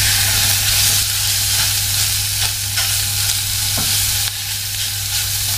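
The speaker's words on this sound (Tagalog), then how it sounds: "Haluin lang ng haluin. Dapat lalabas yung mantika." Pork adobo with pineapple sizzles in its rendering fat in a home kitchen pan, a loud, close, continuous frying hiss broken by occasional scrapes and stirs of the spoon, with no voices.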